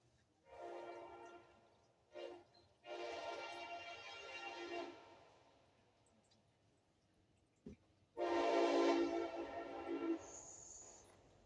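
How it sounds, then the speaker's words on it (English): A train passes close by, sounding its horn in several long, loud blasts separated by short gaps, with a steady rumble of rail traffic underneath. "here comes a train"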